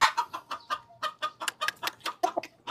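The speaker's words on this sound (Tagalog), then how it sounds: "Yan, kay Angelo na tong isang labuyo natin na si One Eye." Labuyo rooster, a wild junglefowl, clucking in a rapid run of short, close, moderately loud notes with no talking.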